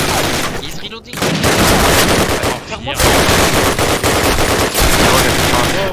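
Thompson submachine gun fire from Call of Duty 1 rattles loudly in dense, sustained bursts with only brief gaps, close and dominant, while a voice talks faintly underneath.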